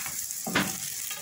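Poppy seed gözleme frying in a pan gives a steady, soft sizzle, with a brief louder burst of crackle midway through the short moment.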